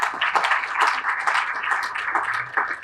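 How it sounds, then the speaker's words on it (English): Dense, steady applause from an outdoor audience at a groundbreaking ceremony for a downtown Aurora apartment development, many hands clapping close by without pause and no talk. "Keep the applause going for the City of Aurora"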